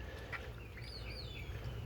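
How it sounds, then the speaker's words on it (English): Several birds call near their nests outdoors, with faint chirps and whistling calls scattered over a steady low background rumble, fairly distant and quiet throughout. "The birds were just raising havoc just now."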